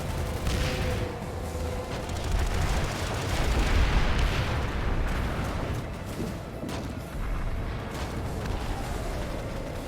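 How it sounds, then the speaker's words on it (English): Air bombardment in Planetside 2 during an outfit wars playoff battle: a continuous, dense rumble of overlapping explosions and distant gunfire that swells and fades over ten seconds, loud and sustained, with no talking. "Air bombardment."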